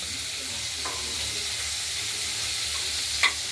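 Pointed gourd fries in hot oil with a little turmeric for a spicy potato and pointed gourd curry, giving a steady close sizzle with faint stirring clicks and one brief sharper crackle near the end.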